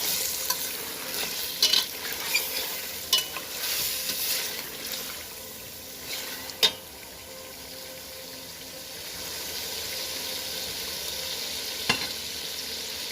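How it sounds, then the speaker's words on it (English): Turmeric powder being stirred into aloo gosht as it fries, a constant oily sizzle with a spoon scraping and tapping the pot now and then, close and moderately loud. "1 teaspoon of turmeric powder or haldi, give it a good stir"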